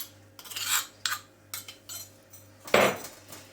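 Coriander leaves, curry leaves, cumin and green chillies being mixed with a spoon in a bowl: a run of sharp metallic scrapes and clinks in an uneven rhythm, close and clear, with one louder scrape near the end and no voices.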